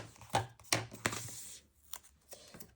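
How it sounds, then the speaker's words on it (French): A strip of paper for a travel journal kit is cut close up, with three crisp snips in quick succession followed by a couple of fainter rustles and cuts, and no one speaking. "Je vais la couper"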